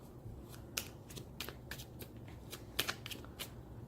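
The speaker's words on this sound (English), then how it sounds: "I don't know if you can actually see me shuffling here." Tarot cards shuffle in quick, crisp riffling bursts, a dozen or so brushes and flicks at an uneven rhythm, close and quiet, with no one talking.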